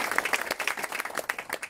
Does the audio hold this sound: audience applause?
yes